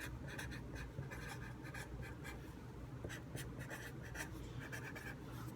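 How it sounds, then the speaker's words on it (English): A pen scratches on paper close by in a quiet room, writing out a short phrase as a steady run of quick strokes and taps with no talk. "So I'm just going to write vocabulary term right here."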